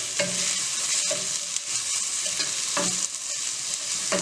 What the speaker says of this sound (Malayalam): അതും നന്നായിട്ട് ഇളക്കി ഒന്ന് അടച്ച് വെക്കുക.